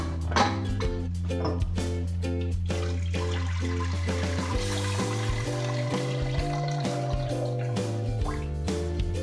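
Water is poured into a metal pressure cooker fitted with a stand, to cook Maharashtrian toor dal. Close, steady splashing and gurgling rise in pitch as the pot fills, heard alone with no talking.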